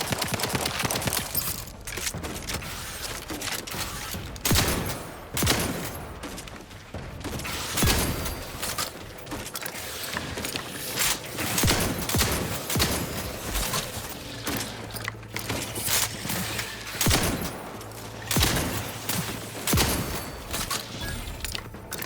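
Repeated gunfire in The Outer Worlds 2: sharp shots and short bursts with irregular gaps over about twenty seconds, mixed with mechanical clatter and low ambient rumble in the game.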